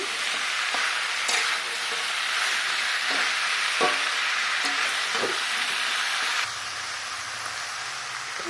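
Banana stem, potato and fried prawns are stirred together in a hot pan, producing a constant loud sizzle broken by repeated rhythmic scrapes and knocks of a spatula, then a slightly quieter hiss toward the end.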